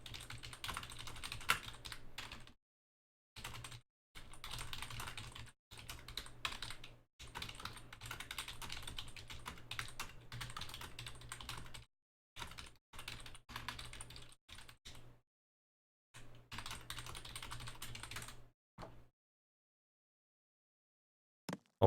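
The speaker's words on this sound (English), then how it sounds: "Just gonna be right now typing into the chat." Fingers type on a computer keyboard in quick bursts of close, crisp key clicks, stopping briefly between runs and ending in silence, while chat messages are entered during an Age of Mythology match.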